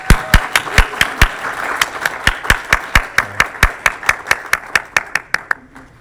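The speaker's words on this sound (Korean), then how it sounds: "큰 박수로 축복합니다." A Korean church congregation at a Sunday service claps in a steady, rhythmic unison beat, with loud, evenly spaced claps that speed up slightly and then stop.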